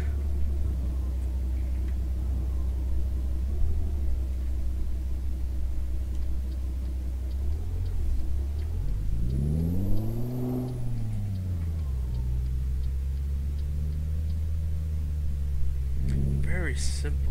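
A Peterbilt 351 truck in Euro Truck Simulator 2 rumbles with a steady low engine drone, rising and falling in pitch through a gear change midway as it accelerates, with a faint beep near the end.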